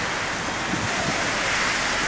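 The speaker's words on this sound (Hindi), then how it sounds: "और तेज हवाओं के साथ जमकर बारिश भी हुई।" Strong winds roar with heavy rain in a sudden storm in Datia, Madhya Pradesh, a steady loud broadband rush of gusting air and downpour throughout, with no voices.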